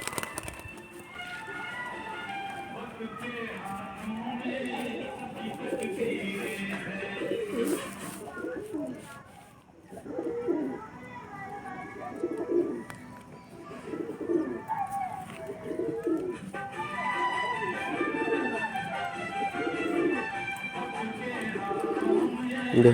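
A pigeon coos in soft, repeated low murmurs at close range while being caught for hand feeding, with handling rustles and quiet background activity throughout.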